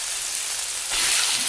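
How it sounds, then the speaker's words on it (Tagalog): Ground meat dropped into a hot pan for Filipino giniling, loud sizzling that swells suddenly about two-thirds through and then holds as a steady broadband hiss, with no talking. "Ngayon, ilagay na natin ang ating giniling."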